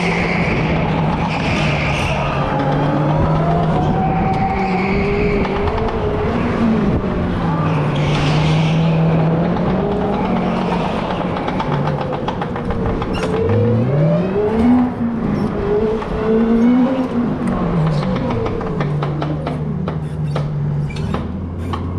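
Indoor racing kart with mechanical problems, its engine droning and revving continuously with wavering, rising and falling pitch sweeps, loud and close throughout.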